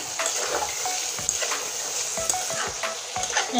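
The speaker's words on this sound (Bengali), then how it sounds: "এবার দেখুন আলু আর মশলা একসঙ্গে কষিয়ে নিয়েছি" Potatoes and spices frying for a fish kalia curry, a close sizzle under brisk, repeated spoon scrapes and light clinks against the pan.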